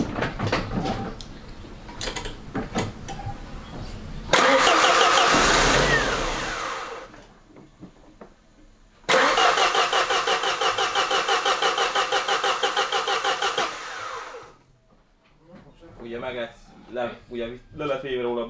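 A two-year-old car running on 95 E10 petrol cranks and catches, revving in loud uneven bursts between pauses. It then settles into a fluttering idle before dropping out, with people talking nearby and a blender-like mechanical whir at the end.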